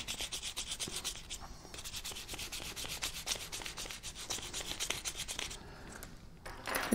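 Hard sandpaper rubbed back and forth over an object being polished, making a continuous raspy scratching with quick repeated strokes, close and fairly loud, before it tails off near the end.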